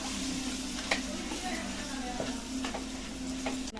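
Lemon pickle cooking in oil in a home kitchen pan, a steady close sizzle and bubbling with occasional scraping stir strokes and clinks throughout.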